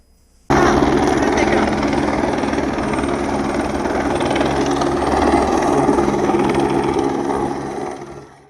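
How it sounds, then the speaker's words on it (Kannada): A survey helicopter over a taluk in Kolar district, near KGF, gives a loud, continuous rotor and engine roar that starts abruptly, holds steady for several seconds and then fades out. "ಹೆಲಿಕಾಪ್ಟರ್ ಬಳಸಿ ತೀವ್ರ ತಪಾಸಣೆ ನಡೆಸಲಾಗುತ್ತಿದೆ."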